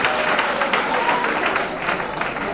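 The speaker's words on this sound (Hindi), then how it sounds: "जोरदार ताली होनी चाहिए। ऐसा नहीं, और जोर से दोनों हाथ ऊपर उठाकर।" A crowd at a promotion ceremony in Begusarai claps loudly with both hands raised, producing dense, continuous applause that fills the entire stretch at close range.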